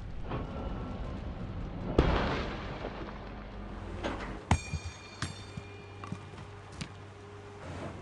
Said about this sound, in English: Explosions and bulldozers rip holes in the landscape.